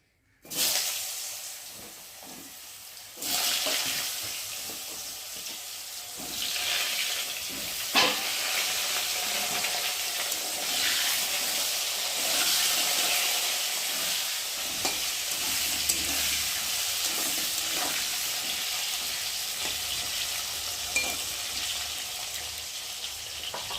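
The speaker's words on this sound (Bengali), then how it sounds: "এখন আমি আলুগুলোকে দিয়ে ভালো করে ভেজে নেব" Potatoes frying in hot oil with tempered spices, a steady close sizzle and hiss with occasional stirring scrapes over about twenty seconds, no talking.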